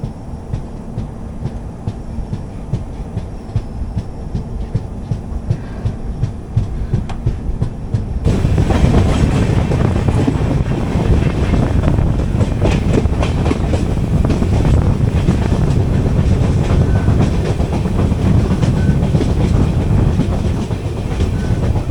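Pune Kanniyakumari Express rolling along the rails, a steady rumble with rhythmic clickety-clack that grows louder and denser partway through as the train gathers pace, heard from inside a coach.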